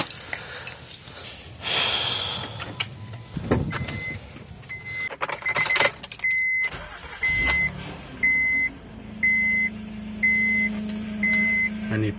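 A car engine starts after its timing belt and water pump are replaced. A short crank and catch gives way to a low, steady idle, while a dashboard chime beeps at regular intervals and a few metallic clinks sound nearby.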